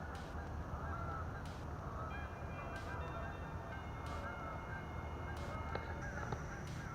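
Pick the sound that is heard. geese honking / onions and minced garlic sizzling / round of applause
geese honking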